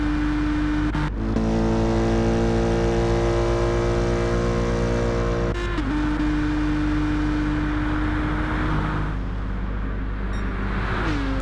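A Group 3 racing car's engine roars at full throttle around Bathurst in Gran Turismo 7, a loud steady drone that drops briefly at two gear shifts before climbing again, with no voices.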